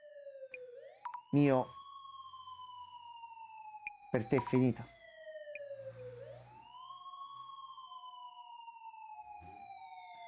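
A wailing police siren in the video game Urban Myth Dissolution Center rises and falls in long sweeping tones that continue throughout, broken by a couple of sharp bursts of game effects while someone speaks Italian over it.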